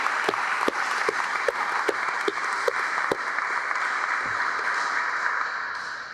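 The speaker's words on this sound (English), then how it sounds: "Please join me in a round of applause for the soldiers of HHB." Audience applause for soldiers at a military change of command ceremony, a steady wash of clapping outdoors with a few sharp, distinct claps standing out near the front, fading slightly at the end.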